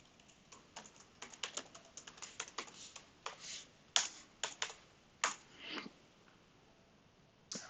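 Password being typed on a computer keyboard while signing in to an administrator account: irregular bursts of close, crisp key taps with short pauses between runs, no talking.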